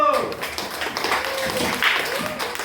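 Students clap in a classroom during a lesson: a scattered, uneven patter of hands under chatter and voices, fairly close and moderately loud.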